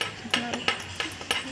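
A peptone sample is stirred into distilled water, a utensil clinking against glass in four or five sharp, evenly spaced taps, close and fairly loud, with no talking.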